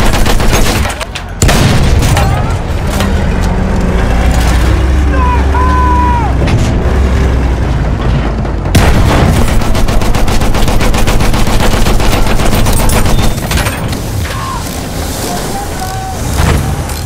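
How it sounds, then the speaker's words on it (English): Enemy machine gun fire in a video game rattles in loud, rapid bursts over ongoing battle noise, with a short gap early on before dense gunfire resumes. "Machine gun, one of theirs."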